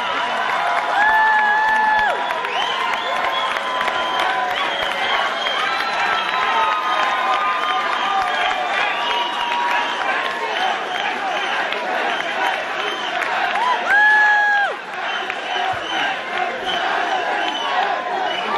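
Audience at an HEC Paris salsa dance event cheers, shouts and applauds steadily through the whole stretch, with shrill whistles cutting through twice and voices mixed into the roar.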